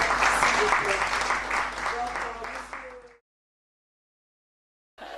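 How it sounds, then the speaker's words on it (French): A group applauds at a health caravan gathering, clapping mixed with voices and cheering for about three seconds before the sound cuts to silence, then resumes briefly. "Des applaudissements, s'il vous plaît"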